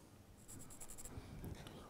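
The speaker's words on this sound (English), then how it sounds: "All I'm doing here, I'm just marking the line so it shows up when I cut it" A pencil or marking tool scrapes briefly across wood, drawing a cut line for a hand-cut dovetail, a short faint rasping stroke over quiet room noise.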